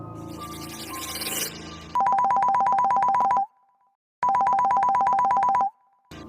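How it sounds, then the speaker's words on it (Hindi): An electronic phone ringtone plays in two long bursts separated by a short silence, clear and close, after a brief jumble of music at the start. "मेरे फ़ोन पे एक बिज़ की साउंड आई"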